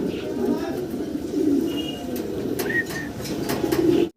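Two pairs of running Danish pigeons coo softly and repeatedly nearby, with a few chirps, under a voice talking throughout.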